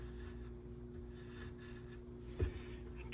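Close, quiet rasping and filing along the edges of a modern battle axe head, a soft continuous scrape with a brief knock near the end, over a low steady hum.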